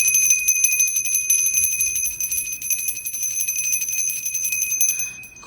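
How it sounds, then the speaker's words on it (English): A small ritual bell rung to call spirits, with a steady, sustained bright ringing that stays loud and continuous before dying away near the end, with no talking. "Mama Red, what does that bell mean?"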